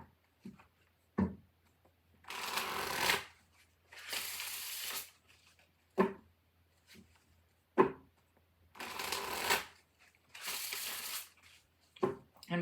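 A Revelations Tarot card deck being shuffled in several separate bursts of riffling and slapping cards, close and crisp, with quiet taps and pauses between bursts and no talking.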